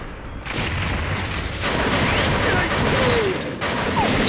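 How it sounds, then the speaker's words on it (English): Grenade blast in the video game TimeSplitters, a loud booming burst followed by a sustained rumbling roar that holds steady to the end, with a high tonal whine running over it. "Did that guy just throw a grenade?"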